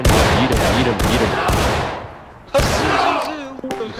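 Civil War musket volleys in War of Rights crack out in a rapid string of loud, close shots, with a dense rolling fusillade and more distant firing behind, while a voice speaks partway through.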